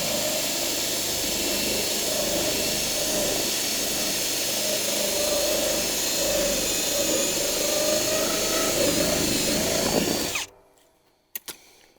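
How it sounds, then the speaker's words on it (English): A power drill bores a hole through the wall of an above-ground water cistern tank, grinding loudly and steadily for about ten seconds before stopping abruptly, followed by a couple of faint clicks. "First thing we got to do is drill a hole for this"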